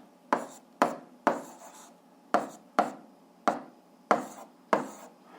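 A pen taps and scratches on paper in a string of about ten short, sharp strokes at a steady rhythm, close and alone without voices.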